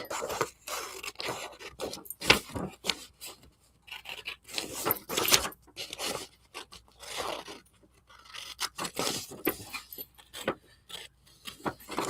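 Small scissors snip and trim paper in short irregular bursts for fussy cutting in a mixed media sketchbook, with close crisp cuts and rustling between pauses and no talking.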